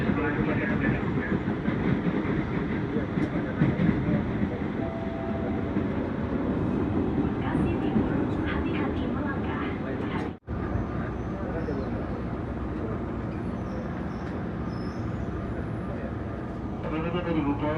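KRL Commuter Line electric train running at about 80 km/h on the approach to Bekasi station, a steady close rumble of wheels and car noise throughout, with a brief dropout partway.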